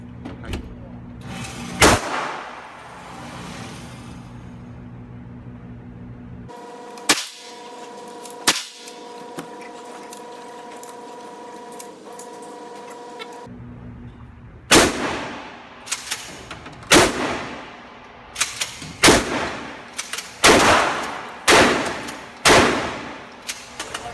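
Sharp gunshots at an outdoor shooting range, single loud cracks spaced apart early on, then a fast series of close, loud shots in the final stretch, with quiet gaps and faint background between.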